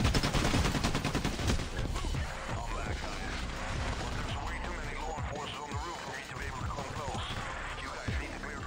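Rapid gunfire and shotgun blasts in Payday: The Heist, a steady barrage of sharp shots and mechanical clatter through the whole stretch, fairly close and continuous, with players talking over it.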